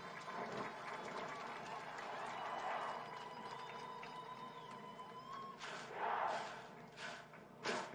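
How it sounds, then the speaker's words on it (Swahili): Crowd clapping at a National Youth Service pass-out parade in Gilgil: steady outdoor applause from a distance with a murmuring crowd, lasting throughout and swelling slightly near the end. "tuwape makofi vijana hawa"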